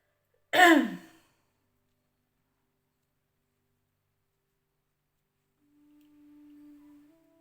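A single short throat-clearing cough comes up close and loud, followed by silence and then a faint low hum near the end.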